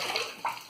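Tap water running briefly in a bathroom sink while a face is washed before a morning shave, a soft close splashing hiss under a quiet room.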